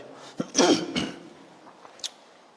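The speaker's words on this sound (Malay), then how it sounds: "batuk tak habis" A couple of rough, throaty coughs close to the microphone, followed by quieter breathing and a faint click.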